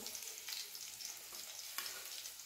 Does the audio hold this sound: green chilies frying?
yes